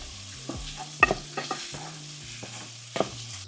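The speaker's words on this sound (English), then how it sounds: "In a pan over medium heat, drop that sausage in and let it cook until they got a beautiful sear on it." Sausage searing in a pan over medium heat, a soft, steady sizzle with a few scattered utensil taps and scrapes close by.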